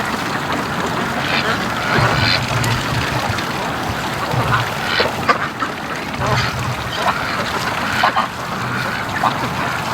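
Muscovy ducks calling and quacking in sporadic bursts over a steady outdoor din at a free-range duck farm, one bird taking off amid others digging in the mud; a voice speaks briefly in the background.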